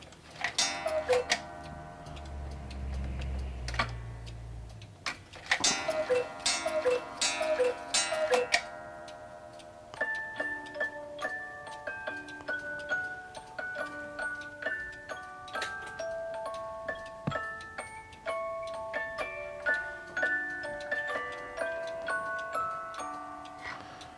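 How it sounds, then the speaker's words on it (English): Two fairly modern German cuckoo clocks tick steadily, with bright melodic chiming tones ringing out over the ticking, close and clear throughout. "Those are two fairly good examples of German cuckoo clocks, both fairly modern"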